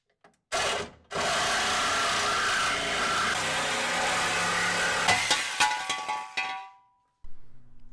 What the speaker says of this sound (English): time to break out the Sawzall, chop this off